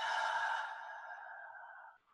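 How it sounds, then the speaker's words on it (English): One slow, deep exhalation through the mouth after a belly breath in through the nose, soft and airy, close up, fading out over about two seconds in a quiet room. "Taking a deep belly breath through your nose and letting it out through your mouth."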